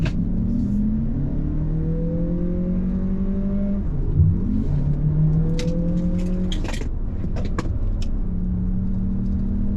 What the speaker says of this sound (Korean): 주행 모드를 스포츠 모드로 바꿔 놓고요, 여기에서 조금 가속을 해볼까요?